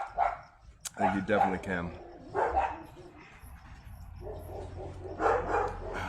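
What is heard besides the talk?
dogs barking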